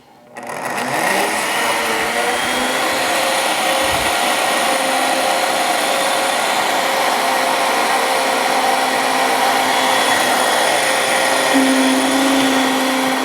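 Kitchen blender running continuously at high speed during a cooking session, a loud, steady whirring roar that holds for over ten seconds with slight shifts in pitch, no speech over it.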